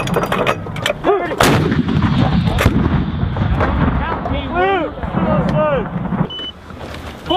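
U.S. Army artillery fires during the Dynamic Front exercise, heavy booming shots rolling across the range amid continuous background rumble, with soldiers' radio chatter and voices heard between rounds.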